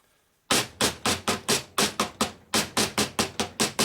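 A heavy lead hammer taps a milling machine vise down in a steady series of about a dozen sharp, dull blows, close and even, with a brief pause midway.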